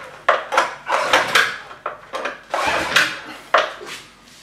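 Starter cord on a Tohatsu MFS9.8BS outboard motor pulled with the ignition off, giving a series of quick rasping, clattering pulls in an uneven rhythm, close and fairly loud, with no engine catching.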